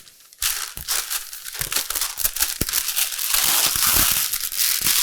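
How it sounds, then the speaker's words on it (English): Parchment paper is folded and crimped into a packet around salmon, with loud, close crinkling and crushing that thickens into continuous rustling. "So now we want to seal this up. Kind of like a Christmas package. We're just going to fold this up."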